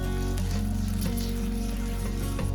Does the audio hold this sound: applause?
no